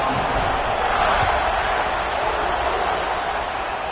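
A steady, broad stadium crowd roar fills a football video game as teams line up for a kickoff, holding at an even level throughout with no distinct peaks.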